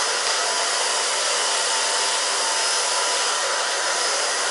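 A hair dryer runs steadily on its low setting, blowing through short hair during a women's asymmetrical haircut, a constant close airy whoosh with no pauses.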